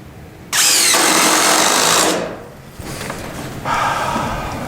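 Power drill driving screws into a dining room floor plate during a mansion floor rebuild, two loud bursts of whirring with a quieter stretch between, close and without talk.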